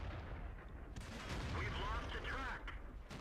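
Tank cannon fire and shell impacts in World of Tanks around a KV-4 heavy tank, heavy booming blasts with metallic ringing hits, under a continuous rumble and someone talking.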